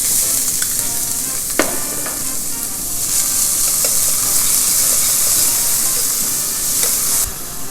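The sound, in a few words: chopped onions sweating in a pan for risotto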